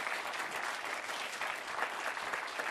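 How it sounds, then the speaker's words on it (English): An audience at a campus debate on a tobacco ban applauds with dense, steady clapping throughout, at moderate volume and with no talk. "let's give the debaters and ourselves another round of applause."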